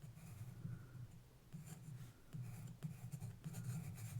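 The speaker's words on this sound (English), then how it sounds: "erase a little bit of that" A pencil eraser rubs across paper over shaded areas of a portrait drawing, faint, close scratchy strokes in short bursts with brief pauses between them.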